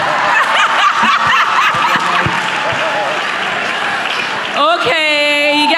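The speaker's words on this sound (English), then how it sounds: "Please clap for me." A youth summit audience claps and chuckles, scattered hand claps mixed with snickers and crowd murmur, then a voice speaks loudly near the end.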